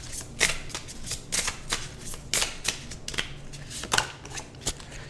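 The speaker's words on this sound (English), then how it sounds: "This is my Winds of Fortune cards." A deck of Winds of Fortune oracle cards is shuffled close up in a quick, steady run of riffling bursts, with no talking over it.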